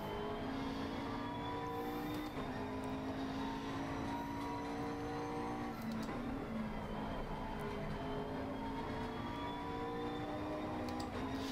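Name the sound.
race car engine in Assetto Corsa Competizione video game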